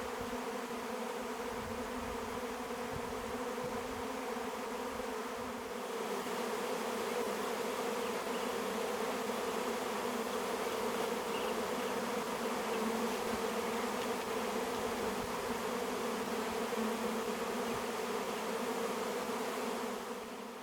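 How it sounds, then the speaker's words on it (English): Honeybees swarm around homestead hives, a dense, steady buzzing drone from many insects close by, holding constant throughout without talk. "today, my bees are swarming again"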